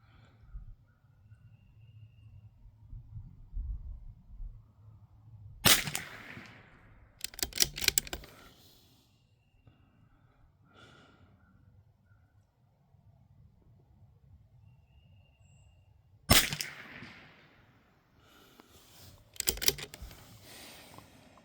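Two .22 LR rifle shots at an outdoor range, comparing Monarch and CCI Standard Velocity ammunition, each a sharp loud crack followed by quieter clicks of the action, separated by long quiet stretches.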